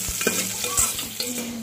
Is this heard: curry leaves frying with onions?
yes